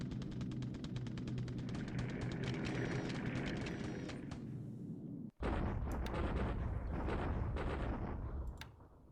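Anti-aircraft flak fire in the War in the Pacific wargame: a dense, continuous barrage of booming bursts and crackling blasts, loud throughout, breaking off for a split second midway before resuming and fading at the end.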